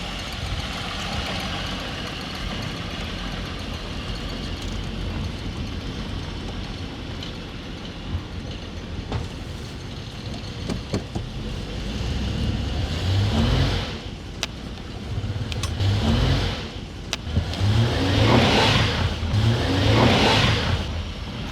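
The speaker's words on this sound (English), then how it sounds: "Big V6, mate." A big V6 engine idles steadily for a long stretch, then revs repeatedly with rising and falling surges, each rev louder toward the end, heard up close with no talk.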